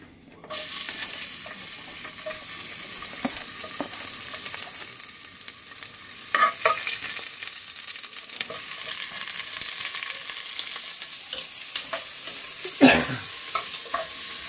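Onions and garlic sauté in canola oil in a pan, giving a steady close sizzle with occasional scraping stirs and clinks, and no talking.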